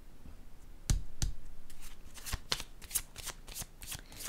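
Cards handled and laid down one by one during a card reading, a series of soft, close flicks and taps spaced irregularly over quiet background.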